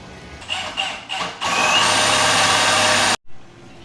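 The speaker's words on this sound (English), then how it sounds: "we just got to go set the notcher up and notch something at that angle" A tube notcher cutting into steel tube for a DIY BMW E46 bash bar: a few short, loud spin-ups, then a steady grinding whine that holds for about two seconds and cuts off abruptly.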